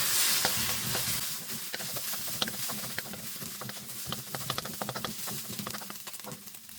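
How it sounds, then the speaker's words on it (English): An egg being scrambled in hot oil in a kadai, a busy sizzle with rapid spatula scrapes and taps against the pan, close and continuous with no talking. "To this add 1 egg. Mix all together."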